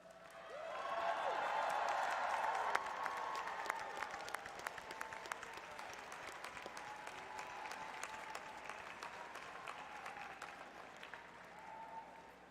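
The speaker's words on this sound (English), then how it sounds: "Seniors, would you please stand if you are able and thank them with a hearty round of applause?" A large crowd applauds at a college commencement as seniors stand, a broad wash of clapping that swells early and then settles into a long steady patter, with faint crowd voices mixed in.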